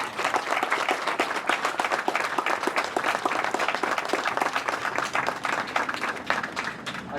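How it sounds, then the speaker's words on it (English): A crowd at a fire museum grand opening gives a big round of applause, dense and sustained clapping that holds evenly loud throughout with rapid overlapping hand claps close by. "so let's have a big round of applause."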